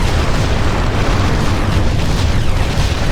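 An enemy structure explodes in the real-time strategy game Ground Control, a loud, dense, sustained rumbling blast that fills the whole moment without letting up.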